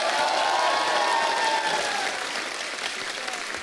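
A studio audience on a comedy show gives loud applause for a singer, a dense, sustained burst of clapping that fades slightly toward the end.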